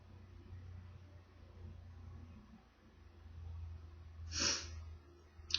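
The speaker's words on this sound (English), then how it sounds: "I'm attempting not to sneeze too loud." A person stifles a sneeze, a single muffled burst that rises briefly out of a quiet room over a steady low rumble.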